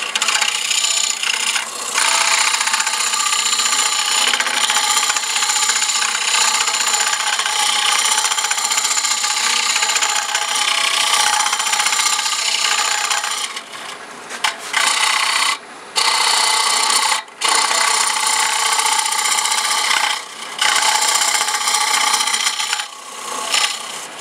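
A hollowing cutter on a wood lathe cuts into a spinning wooden form with a steady, loud, continuous rasping scrape, near and alone, with a few brief breaks and dips toward the end.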